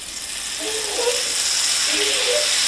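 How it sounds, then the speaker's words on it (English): A stick of salted butter sizzling as it melts into hot oil in a pan, a steady bright hiss with faint tonal squeaks rising over it. "now to the oil, we're going to add 1 stick of salted butter"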